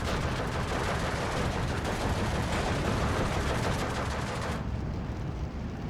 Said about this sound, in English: We got Hotchkiss technicals firing at the infantry.